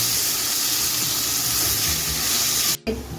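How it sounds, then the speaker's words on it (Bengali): Poppy seeds and spices sizzle in hot oil with a loud, continuous hiss that cuts off abruptly near the end, while a jolpai chutney is cooked. "আমি পোস্তটাকে একটু তেলের সঙ্গে মশলার সঙ্গে ভালো করে একটু চটিয়ে নিচ্ছি"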